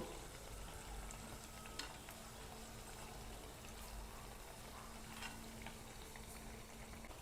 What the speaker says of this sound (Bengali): এইভাবে করে উল্টে পাল্টে একটু লাল করে ভেজে নেব